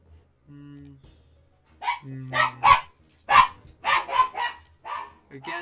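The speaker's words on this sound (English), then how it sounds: "Again, sorry about my dog." An excited dog barks repeatedly indoors, a quick run of loud, close barks following a couple of low tones, with no talk over it.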